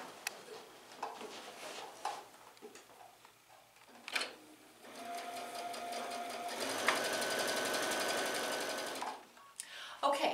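Sewing machine stitching quilt block pieces for a star block: a few soft clicks and handling sounds first, then a steady close whir of stitching for several seconds before it stops.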